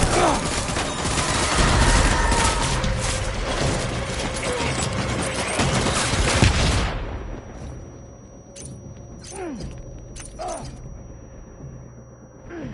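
Sustained rapid gunfire rattles densely through the first half of a Death Stranding firefight, then breaks off into scattered single shots and mechanical clicks over a low ambient drone.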